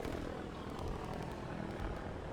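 Steady droning helicopter engine noise in a video game, with a whirring rotor quality, continuous and fairly loud, like helicopters hovering nearby.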